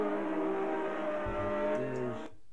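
Racing sidecars roaring along the pit straight at Bathurst, a loud engine note with a falling pitch as they pass close by, then cutting away abruptly.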